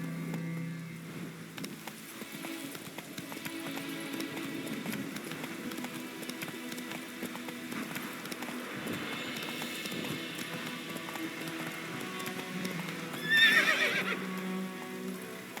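A horse in The Witcher 3 gallops with steady clip-clop hoofbeats over a rain-like wash of game ambience, and it gives a loud whinny near the end.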